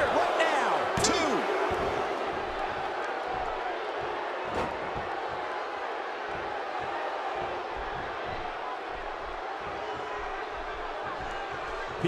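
A large wrestling crowd at a live event keeps up loud, sustained cheering and roaring throughout, with a few sharp slaps from the ring early on and commentary running over the noise.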